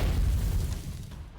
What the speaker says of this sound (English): Dust flies everywhere amongst the ensuing explosion